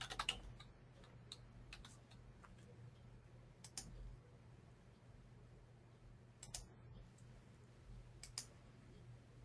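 Computer mouse clicks while navigating software setup screens, sparse sharp single and double clicks scattered over several seconds against a steady low hum, with no talk.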